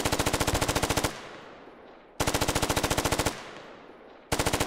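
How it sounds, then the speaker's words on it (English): Automatic gunfire in the military video game Squad: loud rapid bursts of about a second each, separated by echoing decays, repeating three times up close with no talk. "That is throwing some rounds at Groot"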